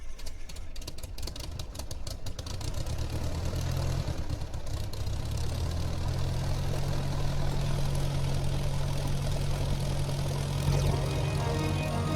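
A propeller airplane engine in an audio drama drones loud and steady, with a low rumbling hum that builds after a rough start and holds throughout.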